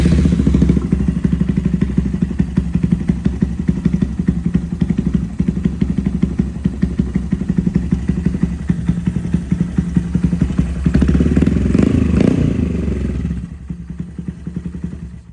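A Honda Grom motorcycle engine starts and runs at a steady, loud idle with a lumpy mechanical clatter, then drops to a quieter idle near the end.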